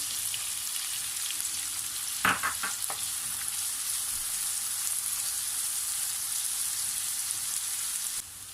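Onions and peppers sizzle steadily in hot oil in a pan while cooking okra in olive oil, a continuous close frying hiss with a brief burst of clatter and stirring near the middle.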